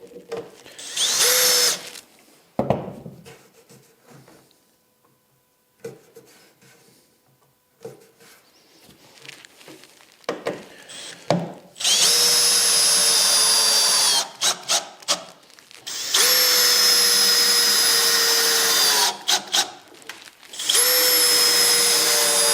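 A power drill drives screws to fasten a board onto a workbench top, with short whirring bursts followed by longer loud runs that rise in pitch, separated by quiet handling noises, close up and alone.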